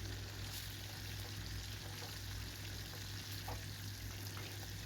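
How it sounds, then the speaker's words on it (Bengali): Hilsa fish pieces fry in hot oil with a steady, even sizzle that holds throughout, close and moderately quiet. "আরও যত মাছ আছে বাকি সমস্ত আরেক ব্যাচ আমি লেজা মুড়ো সবগুলোই ভেজে ভেজে"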